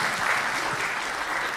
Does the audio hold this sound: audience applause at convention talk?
yes